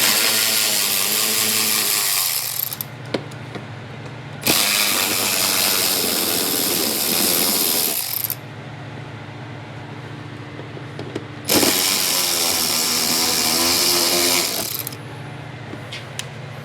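Power tool backing Phillips screws out of a 2023 Hyundai Palisade fender: three sustained whirring bursts of several seconds each, loud and close, separated by quieter gaps with a low background hum and small clicks.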